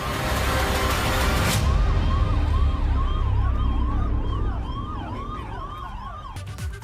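Ambulance siren wailing loud and close in a street setting, with repeated rising and falling tones over steady traffic and engine rumble, fading slightly toward the end.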